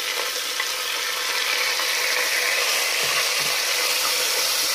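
Finely chopped onion frying in a pressure cooker, a dense continuous hiss of sizzling oil, steady and close with a couple of faint clinks, nobody speaking.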